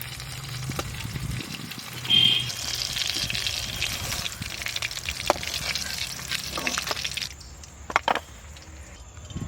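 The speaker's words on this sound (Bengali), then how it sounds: "আলুগুলো ভেজে নেবো" Potato pieces frying in a pan for a home-style rohu fish curry with spring onion, a steady close sizzle and bubbling with stirring noises throughout, a brief clatter near the end.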